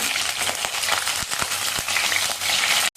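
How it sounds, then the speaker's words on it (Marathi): Drained brinjals hit a ladle of hot oil and fry with a loud, dense sizzle, close up and steady, broken by sharper crackles and pops. The sizzle cuts out briefly just before the end. "आता तेल चांगलं गरम झालंय वांगी नितळून आपण तेलामध्ये घालूया"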